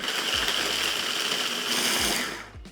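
A kitchen blender blitzes artisanal meat sticks for potato salad, giving a steady, loud, whirring motor roar for a few seconds before it winds down at the end.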